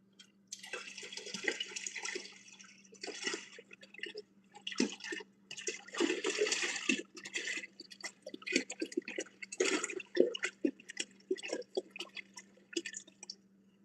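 Distilled water splashing and pouring while brewing beer, an irregular run of splashes, drips and spills that carries on steadily with no talk.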